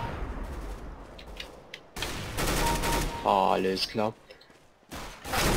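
Bursts of machine gun fire crackle in CS:GO, rapid and loud in clustered volleys, mixed with other game effects while someone talks over them.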